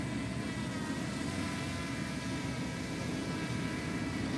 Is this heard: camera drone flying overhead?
yes